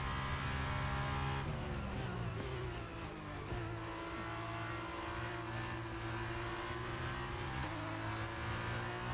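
An F2 race car engine roars in the video game F1 23, revving and shifting with a whistling turbo whine. The steady, loud engine note runs continuously for about nine seconds and has pitch changes through the gears.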